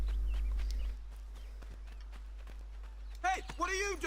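Rhythmic clip-clop of horse hooves in the video game Assassin's Creed 3 trots along at moderate volume, ending with a louder animal whinny-like cry.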